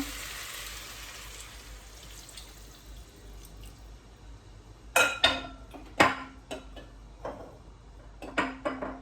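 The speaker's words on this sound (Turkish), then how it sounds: "Su ekliyorum." Water is poured into a pot of cooking meat, hissing and bubbling at first, followed by sharp clinks and knocks of a utensil against the pot.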